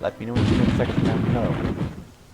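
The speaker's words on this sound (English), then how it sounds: "apologies in advance if you hear fireworks in the background" Deep booms from New Year's Eve fireworks rumble in the background, steady and heavy beneath a person talking close up.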